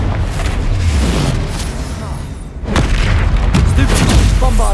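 Spells in the Hogwarts Legacy video game, including Confringo and Incendio, set off deep booming explosions one after another. The blasts are loud and rumbling, with a brief dip before a fresh burst of bangs.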